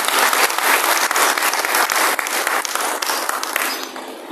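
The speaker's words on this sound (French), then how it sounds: "Applaudissons pour lui" A congregation at a religious thanksgiving service gives a steady round of applause, dense and sustained for several seconds before it tails off.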